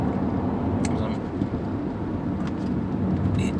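A new 2017 Land Rover Discovery 5 takes a small bend, giving a steady engine and road rumble heard from the cabin, with a few faint chirps overhead.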